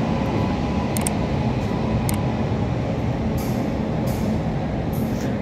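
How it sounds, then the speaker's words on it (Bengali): A passenger train heading toward Agra Cantt rumbles along at speed, a loud continuous low roar of wheels and carriage noise with a few faint higher clicks and squeaks. "তো এখন ট্রেনে উঠে গেলাম আর আগ্রা কান্টের দিকে যাচ্ছে।"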